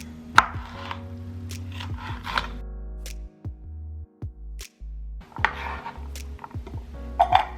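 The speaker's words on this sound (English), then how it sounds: "Dice your bell pepper." Knife dicing bell pepper on a cutting board, with a quick run of sharp close chops, a pause with a few isolated cuts, then another brisk burst of chopping.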